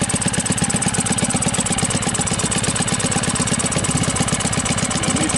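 A Honda BF5 outboard motor runs steadily and loudly close by, a fast even chugging with no break and no voices over it.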